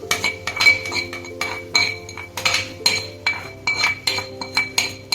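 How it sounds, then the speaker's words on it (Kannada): Tempering poured into vegetable sagu curry, heard as a run of bright metallic clinks and clatters from a spoon and pan, repeating every half second or so, close and fairly loud with no talk. "ಈ ಒಗ್ಗರಣೆನ ಇದರೊಳಗಡೆ ಹಾಕೋಣ."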